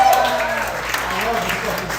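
An audience claps in a steady, dense patter throughout, with a voice talking over the applause.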